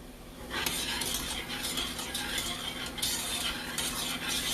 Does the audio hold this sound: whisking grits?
yes